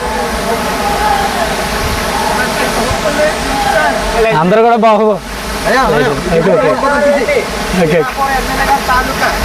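Sarugudu waterfall in Anakapalli district, a continuous rush of falling water under a voice and other people talking nearby.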